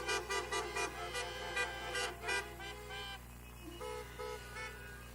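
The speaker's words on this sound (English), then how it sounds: "I heard quite a few hesitant honks out there" Car horns toot in quick short bursts at an outdoor rally in Saskatoon, several honks overlapping at a moderate distance, some hesitant and scattered, with no voices over them.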